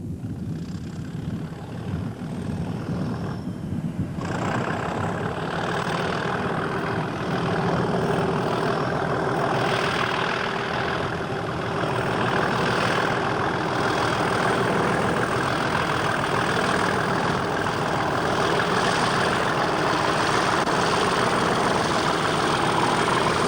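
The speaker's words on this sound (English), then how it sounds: "Engine number 37894 is seen propelling this oil train into the sidings." Class 37 diesel locomotive 37894 propels an oil train into sidings at a Bishopbriggs oil terminal, with a loud, steady heavy engine rumble and droning hum that holds throughout, close by.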